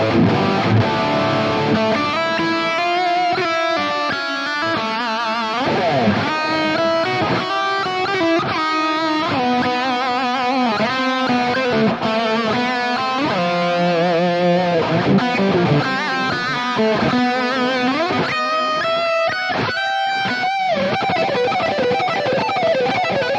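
Ultimate lead tone from a Mesa Boogie JP-2C amp captured for ToneX: heavily distorted electric guitar plays fluid, sustained melodic lead lines continuously and loudly, with no talking.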